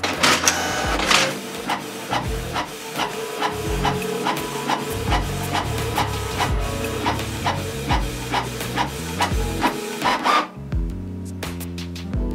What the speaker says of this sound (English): Here I copy in mono and in color mode using Canon PRINT app as a user interface.